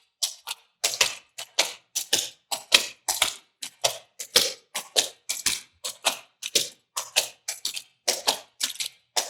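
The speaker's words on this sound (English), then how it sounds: "instead of kicking, you can do the foot flick that we did earlier." Rapid foot-flick dance steps of the Red River Jig, a fast, steady run of crisp tapping beats following one another without pause, close and loud with no talk over them.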